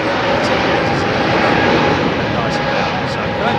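Aircraft at London Heathrow Airport, a loud, steady broadband engine roar that holds without letup across the whole stretch, heard from close by with no talk over it.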